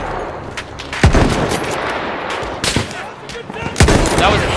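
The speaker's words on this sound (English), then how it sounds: "let's pull out our sniper rifle. We'll take him out." Sniper rifle shots in the Battlefield video game, three sharp loud cracks spaced about a second or more apart, set against constant busy gunfire and battle noise from the game.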